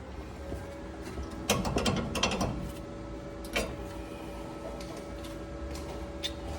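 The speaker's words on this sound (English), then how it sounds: "I'm gonna tighten that nut up" Ratchet clicks in short bursts as a nut is tightened on a Nissan D21 exhaust, a few quick clustered ratcheting strokes near the middle over a steady low background hum, moderately close.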